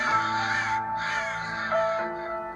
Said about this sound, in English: the trees are filled with screeching crows